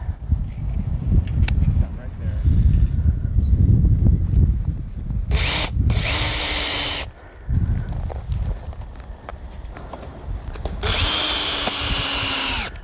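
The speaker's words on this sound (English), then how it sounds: "we just secure it in place with some screws" A power drill drives screws to fasten track along the top of a 2x4 while installing a high tunnel insect exclusion screen, with two loud whirring bursts after handling noise and footsteps, close and alone without talk.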